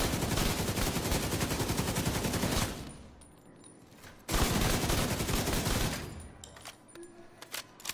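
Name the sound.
gunshots in the video game The Division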